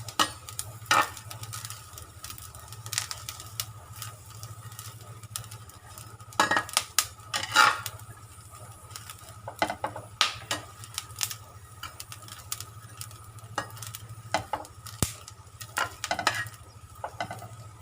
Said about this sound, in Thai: เราคั่วนะคะใช้ไฟปานกลางคั่วพริก